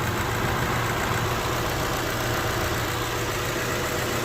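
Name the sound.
Honda Civic EF engine idling with faint valve lash ticking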